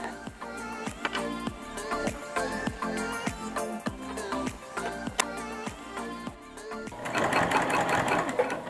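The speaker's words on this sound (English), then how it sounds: "So I'm just top stitching all the way around, making sure that I'm not catching anything underneath." A sewing machine top stitches around a bucket hat in steady rapid bursts, close and loud, pausing briefly between runs, with a denser whirring stretch at the end.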